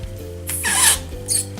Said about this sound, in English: It can make noise, like someone farted.